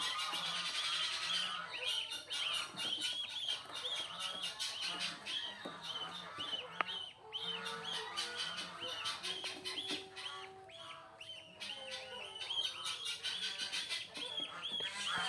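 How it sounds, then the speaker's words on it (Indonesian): Week-old goslings call in a flurry of thin, high peeping squeaks and chirps, many overlapping, close and continuous, while they are handled one by one into a cardboard box. "ini anak angsanya udah lumayan besar ya, umur 1 mingguan"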